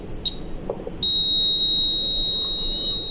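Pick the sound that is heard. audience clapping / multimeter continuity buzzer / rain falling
multimeter continuity buzzer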